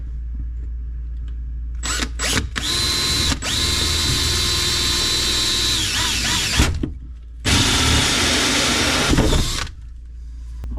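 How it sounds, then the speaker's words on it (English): A power drill runs close and loud in several bursts, drilling a hole in an RV wall below an outlet, whirring steadily for seconds at a time with brief stops between. "I'm just going to drill us a hole right here below the outlet"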